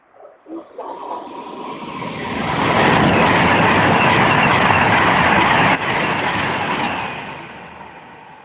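A fast train roars through Acton Bridge station, building from a distant rumble to a loud, broad rushing wash that holds for several seconds and then begins to fade.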